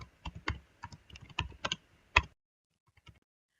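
Keys clack on a computer keyboard while code is typed, a quick irregular run of close, crisp taps that pauses briefly before a few faint final strokes.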